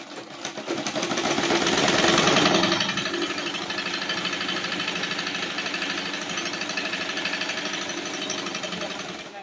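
Sewing machine stitching churidar salwar fabric, a rapid mechanical chatter that swells loudest early on and then carries on steadily at a slightly lower level, close and continuous.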